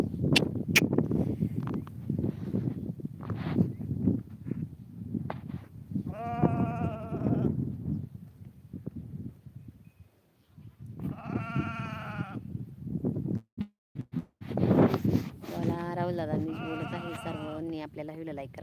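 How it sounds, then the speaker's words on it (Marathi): Sheep resting with a shepherd's flock bleat several times in clear, wavering calls, some overlapping, close by at a moderate level, while a person talks between and under them. "बघा इकडे मेंढ्या बसल्यात माझ्या पाठीमागे"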